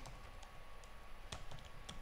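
A command typed on a computer keyboard in a terminal, heard as a few quiet, scattered key clicks over a steady background hum.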